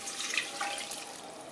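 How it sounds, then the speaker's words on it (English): Haddock cooking liquor is poured into a pan of buttered potatoes, a soft, continuous trickle and splash of liquid, faint and close, with no talk. "Now we pour in the liquor that the haddock was cooked in and the bay leaf."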